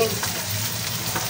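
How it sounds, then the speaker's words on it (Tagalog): Tilapia sautéing in a hot pan gives a constant close sizzle and crackle, with no pauses through the short stretch. "Gigisa-gisa lang po natin."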